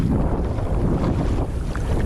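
Strong wind buffets the microphone in steady gusts of about 9 to 12 mph, with a low rumbling roar and water splashing against a boat on choppy water.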